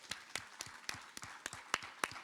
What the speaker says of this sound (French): Je voudrais qu'on t'applaudisse quand même,